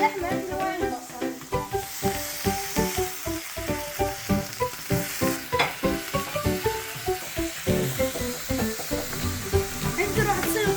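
Beef and onions sizzle in a pan, stirred constantly so rhythmic scraping and clattering pulses ride over the frying hiss, close up with a faint voice in the background.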